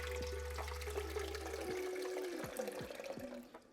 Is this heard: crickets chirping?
no